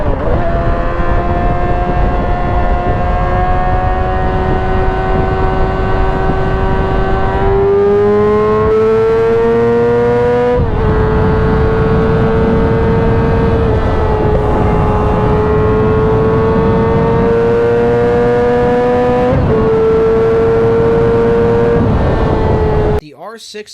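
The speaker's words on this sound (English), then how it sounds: "R6 is such a true super sport screamer." A Yamaha R6 600cc sport motorcycle engine revs loud and close, its pitch climbing steadily and dropping at gear changes before climbing again, then cutting off at the end.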